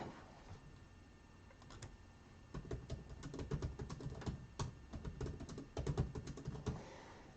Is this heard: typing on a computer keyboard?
yes